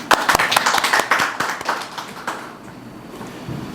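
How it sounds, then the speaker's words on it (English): Audience at the grand opening of a NICSE coaching centre in Nagaland breaks into clapping: a burst of sharp, fairly close hand claps over the first two and a half seconds, then tapering off into quiet room tone. "Let's clap for that."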